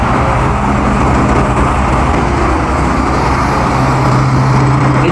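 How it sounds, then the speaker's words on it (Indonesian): A vacuum truck pumps out septic tank water on a street near Jeddah, giving a loud, continuous mechanical drone and suction rumble mixed with wind and traffic noise. "Ini lagi nyedot air septic tank ya."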